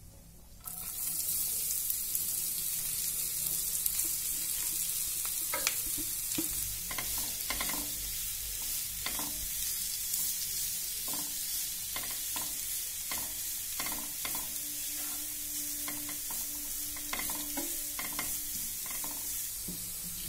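Carrots frying in a pan with a steady bright sizzle throughout while a spoon stirs them, adding repeated scraping knocks against the pan, close and continuous with no talking.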